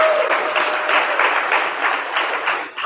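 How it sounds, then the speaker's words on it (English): A hackathon audience applauding steadily, a dense wash of clapping that holds for about three seconds before tapering slightly. "So big round of applause for that."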